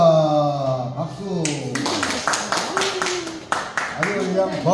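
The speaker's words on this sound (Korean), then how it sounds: "박수." Applause at a temple arts festival exhibition in Insadong, with brisk clapping breaking out and continuing alongside lively talk and voices throughout.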